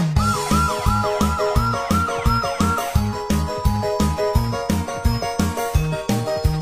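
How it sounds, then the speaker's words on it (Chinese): A toy fire truck that sprays water sounds a looping electronic siren, a wailing tone over a steady repeating beat, loud and close with no one talking. "拉响警报，哇呜哇呜"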